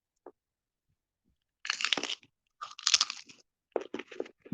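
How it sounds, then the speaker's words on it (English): Crisp crunches from biting into and chewing an air-fried pita chip, close up, in three bursts separated by short pauses. "hopefully you'll be able to hear the crunch when I bite into it"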